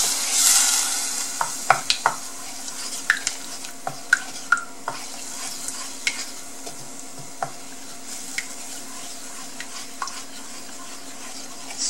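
Green curry paste and coconut milk stirred in a pan: a faint sizzle runs under scattered light clicks and scrapes of the spoon against the pan, spaced irregularly.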